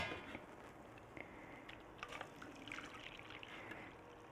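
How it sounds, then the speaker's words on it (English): Red cabbage liquid strained through a sieve into a jug, a soft steady trickle with small splashes running throughout, moderately close, with no talking. "I'm going to strain it into my my jug here because my sieve will fit on top of it."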